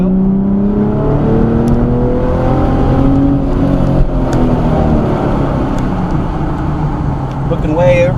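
Car engine accelerating on an autocross course at Pocono, revs rising and falling in sweeping pitch over a steady loud drone, with people talking over it inside the car.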